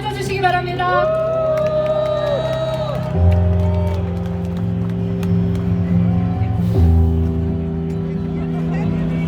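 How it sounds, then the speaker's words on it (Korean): Crowd at a political party rally cheering, whooping and applauding loudly, a dense sustained roar with rising shouts running throughout. "큰 박수와 함성으로 맞아주시기 바랍니다."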